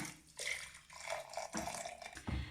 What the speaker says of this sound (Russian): Я добавляю приблизительно 2 столовые ложки в ковшик и заливаю все кипяточком.